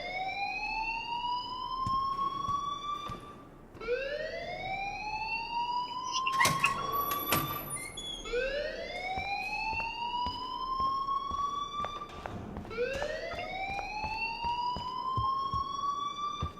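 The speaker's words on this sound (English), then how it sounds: "please turn off that alarm since that's your job." A school fire alarm in the Life is Strange video game wails in repeated rising electronic sweeps, loud and steady, with brief clattering noises mixed in.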